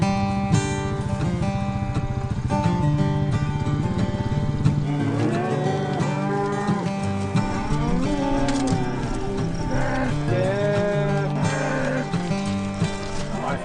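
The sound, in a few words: grass-fed cattle mooing on farm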